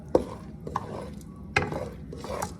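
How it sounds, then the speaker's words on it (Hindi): Corn kernels for popcorn being stirred in a pot, a few distinct scraping clinks and rattles spaced about a second apart, fairly close and otherwise quiet. "अब इसको मिक्स करेंगे"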